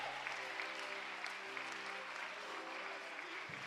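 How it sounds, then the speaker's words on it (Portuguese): A congregation applauds during an evangelical church service, with steady clapping held under faint sustained tones and murmuring, fairly quiet and continuous. "Você pode aplaudir a Jesus?"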